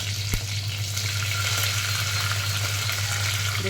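Curry leaves and garlic frying in hot oil as a tempering for vathal kuzhambu, a loud steady sizzle close up and constant for the whole stretch, with no talk.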